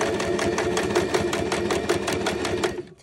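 A sewing machine stitching piping, whirring in a quick, steady run of needle strokes close by, then stopping abruptly near the end.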